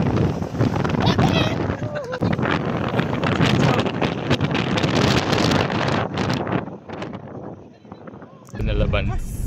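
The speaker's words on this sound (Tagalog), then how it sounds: "Nakakatakot yung tunog ng hangin." Strong gusting wind buffets the microphone in a loud, continuous roar with rising and falling gusts, and voices break through at times.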